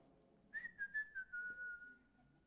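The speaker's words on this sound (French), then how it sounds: "Je l'imagine en sifflant." A short whistled phrase: a few quick rising notes, then one long held tone gliding slightly down, fairly soft against a quiet background.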